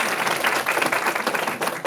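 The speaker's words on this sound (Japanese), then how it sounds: "大きな拍手をお願いいたします。" A contest audience applauds after a diabolo performance featuring acrobatics, a dense, steady wash of clapping filling the whole stretch with no voices on top.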